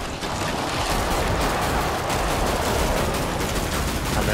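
Dense, sustained automatic gunfire from Killing Floor 2 rattles on without pause, a loud, close barrage that stays steady and unbroken throughout.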